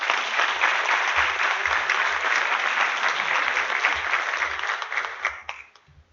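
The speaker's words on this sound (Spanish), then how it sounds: "por favor, un aplauso." An audience at an economics seminar on sustainability applauds for a director in a long steady burst of clapping that fades out over the last second, loud and close, with no voices.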